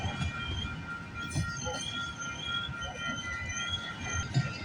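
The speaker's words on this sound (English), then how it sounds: "When is this train going to end?" A long CPKC freight train with BNSF locomotives rolls slowly past at Galt, milepost 57, a continuous rumble of railcars with high metallic wheel squeals drifting over it, close and steady throughout.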